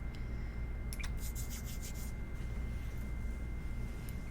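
Fabric rubbing as perfume is worked into clothing by hand, a steady close scratchy friction with a few brighter scuffs near the start, faint and alone.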